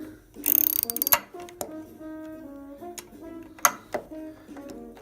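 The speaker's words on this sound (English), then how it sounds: "you're gonna take an 8mm socket, and then you're gonna start loosening these bolts" An 8mm socket ratchet loosens bolts on an 80cc go kart, with rapid metallic clicking in bursts, a dense run early and then scattered single clicks and turns.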